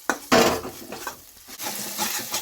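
Ginger roasting in a little ghee in a pan, with a close stirring scrape and a short burst of sizzle followed by softer frying and occasional utensil knocks.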